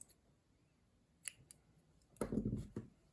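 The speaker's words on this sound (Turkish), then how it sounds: "Şimdi bu ipimi de buradan kesiyorum" Scissors snip through knitting yarn, with a few faint clicks of the blades followed by a louder, close crunching cut, quiet and alone with no talk.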